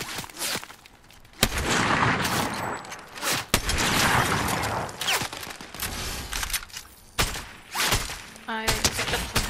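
Gunfire rattles in a battle royale video game, with repeated bursts and single shots near and far over roughly nine seconds, mixed with footsteps and a few booming impacts.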